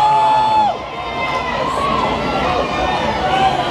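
Concert crowd at an outdoor fairground show cheering and applauding, a loud continuous wash of claps and shouts with scattered whistles, steady throughout.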